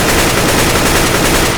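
Rifle fire in CS:GO, a loud, dense burst of rapid automatic shots packed tightly together with no gaps across the whole short stretch.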